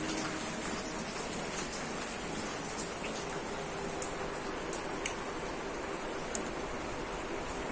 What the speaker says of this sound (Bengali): বাইরে অনেক বৃষ্টি হচ্ছে